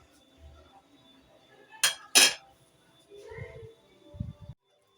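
A metal lid goes onto a cooking pot with two sharp clinks close by, followed by softer knocks and scrapes of cookware in a quiet kitchen.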